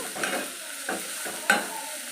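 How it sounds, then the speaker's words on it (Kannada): Chicken chops mixture frying in a pan and being stirred: a soft sizzle runs throughout, with a few sharp scraping clacks from the stirring, close up and with no voices. "ಕ್ಲೀನಾಗಿ ಎರಡು ಒಟ್ಟಿಗೆ ಎಲ್ಲನೂ ಫ್ರೈ ಆಗಲಿ"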